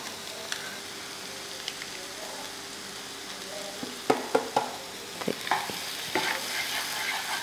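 A spatula stirs grated boiled egg, about three eggs, into masala in a pan. Soft scraping strokes sound over a low sizzle, sparse at first and then a quick run of close clinks and scrapes toward the end.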